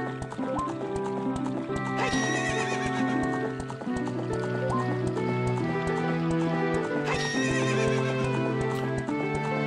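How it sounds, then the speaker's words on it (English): Horse neighing loudly twice and galloping with steady clip-clop hooves in The Legend of Zelda: Ocarina of Time 3D, heading to Gerudo Valley, over continuous game music. "Alright, get on my horse."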